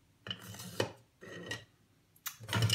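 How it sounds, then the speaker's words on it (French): Wooden ladles and flat wooden spatulas clatter and knock together as they are handled in a kitchen, three or four short, quiet bursts of rattling utensils. "une louche, des spatules en bois, une spatule plate en bois"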